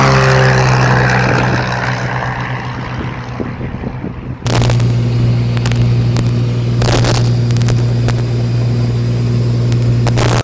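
Steady droning airplane engine roar with a constant low hum, growing louder and fuller partway through, with wind buffeting and occasional rattles; no voices.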